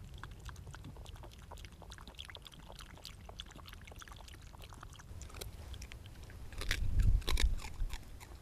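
Faint, irregular crunching of a dog chewing dry food outdoors, with a louder burst of crunches near the end.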